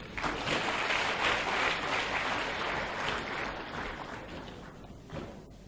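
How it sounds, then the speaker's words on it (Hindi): An audience at a networking seminar applauds as volunteers come forward, a dense burst of many clapping hands that holds steady, then fades and breaks up near the end. "जोरदार तालियां इनके लिए।"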